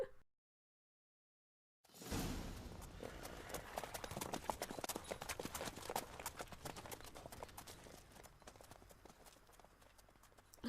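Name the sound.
horses walking with clip-clop hooves in The Witcher 3 video game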